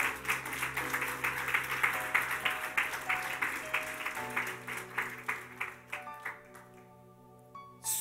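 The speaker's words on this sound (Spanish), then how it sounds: "Denle ese aplauso fuerte al Señor." A church congregation claps in steady rhythmic applause during a Spanish-language worship service, with sustained music tones beneath that fade as the clapping thins out near the end.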